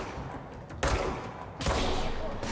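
Gunfire from the video game Control, two loud bursts of shots about a second apart, close and sharp, with players talking faintly around them.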